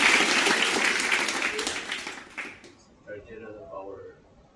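An audience at an evening church club meeting gives a round of applause, loud and full for about two and a half seconds before fading into scattered claps as a voice begins speaking.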